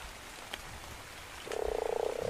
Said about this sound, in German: Da ist doch ein Frosch.